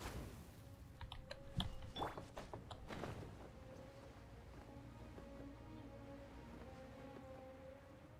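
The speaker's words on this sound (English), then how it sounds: "I hope my keyboard taps aren't too loud." Computer keyboard typed close to a microphone during a Genshin Impact game session: a quick burst of loud, crisp key taps and clacks in the first few seconds, then a steady low background hum with faint game tones.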